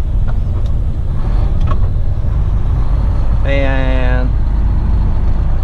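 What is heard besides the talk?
road traffic around a truck hauling an oversized load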